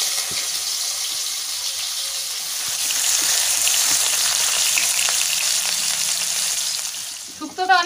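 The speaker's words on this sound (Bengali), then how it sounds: "সবথেকে প্রথমে আমি করলাগুলো ভেজে নেব" Bitter gourd slices fry in hot mustard oil in a kadai, a steady loud sizzle and hiss running throughout, swelling slightly midway, with a few clatters near the end.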